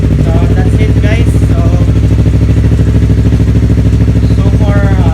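A Yamaha R3 motorcycle engine runs loud and close after a starter repair, a steady rapid pulsing throb with no pauses and slight rises in pitch throughout.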